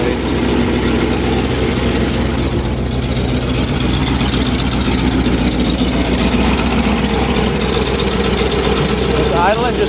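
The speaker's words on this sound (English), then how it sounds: "Idling just a little rough." A 1975 International 1800 truck engine, started for the first time in 24 years, idles nearby with a loud, uneven, slightly knocking rumble that holds steady without pause.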